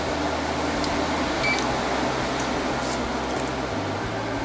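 An air conditioner in fan-only low mode gives off a steady, even broadband whoosh of airflow with a low motor hum underneath, constant and unbroken throughout.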